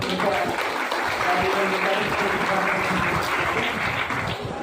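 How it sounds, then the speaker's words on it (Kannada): Children clap together at the opening of a program, a dense, steady burst of applause filling the whole stretch at an even level, with faint voices mixed in underneath. "ದಯವಿಟ್ಟು ಮಕ್ಕಳು ಚಪ್ಪಾಳೆ ತಟ್ಟುವ"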